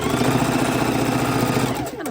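A sewing machine runs steadily, stitching a quarter-inch seam in a continuous fast mechanical whir that is close and loud, then slows near the end.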